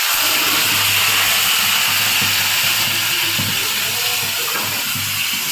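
Onion paste sizzling in hot oil in a pan while mango dahi chicken is being cooked, a steady dense hiss with faint scraping and low rumbling underneath, continuous and close throughout with no talking.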